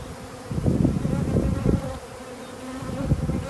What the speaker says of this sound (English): if you're new to bees, when a hive decides to swarm